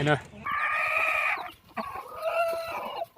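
Native free-range hens cluck and cackle close by in two drawn-out bursts, with a brief scratchy noise between them.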